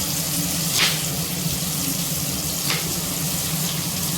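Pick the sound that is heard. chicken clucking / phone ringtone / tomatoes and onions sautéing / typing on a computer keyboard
tomatoes and onions sautéing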